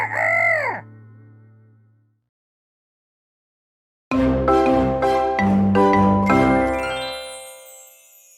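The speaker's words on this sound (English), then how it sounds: "called out another crow of his own" A rooster crows once, then after a pause of near silence a bright jingling chime plays, loud and close.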